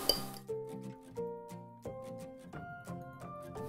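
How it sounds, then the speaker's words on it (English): Eggs, cream, salt and pepper are whisked in a bowl for a carbonara sauce, giving a quick series of light metallic clinks and taps of a whisk against the bowl, close by and fairly quiet. "And give it a whisk."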